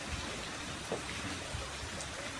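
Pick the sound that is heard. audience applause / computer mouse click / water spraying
water spraying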